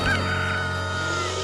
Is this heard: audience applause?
no